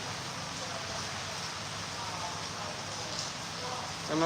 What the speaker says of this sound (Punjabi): ਜਿਆਦਾ ਮੀਂਹ ਪਹਿਲਾ ਘੱਟ ਸੀ